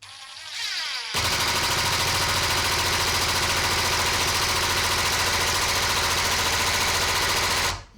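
Ridgid Gen5x cordless impact driver running at its lowest speed setting while driving general screws: a loud, steady motor whine with rapid hammering rattle, starting after a brief quieter lead-in and holding continuously for about seven seconds before cutting off.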